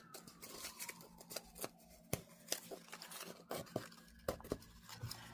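Scissors snip through a pillow to open it, giving a run of short, crisp cutting crackles and rustles of fabric and stuffing, close and fairly quiet, with no talking.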